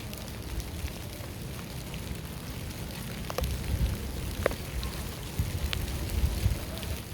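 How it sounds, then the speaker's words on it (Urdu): Steady rain falls outdoors around a home, a dense even patter with a few sharper drops and taps rising slightly louder toward the end. No one speaks. "بارش کی آواز سنیں"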